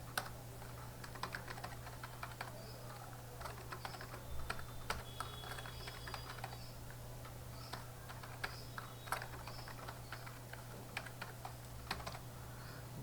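Quiet typing on a computer keyboard, with a steady stream of soft key clicks over a low, constant room hum while code is entered, and no voice.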